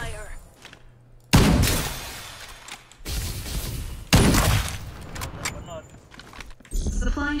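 AK rifle gunfire in the battle royale game Farlight 84, loud broadband bursts of automatic fire that come in several bouts, with talk and game voice lines in between.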